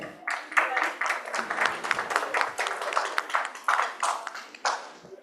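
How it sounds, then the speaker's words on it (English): An audience at an awards conclave claps to welcome Bharti Airtel, a moderate burst of scattered hand claps that rises and continues unevenly for several seconds in a hall. "Let's please welcome them with your applause, everybody"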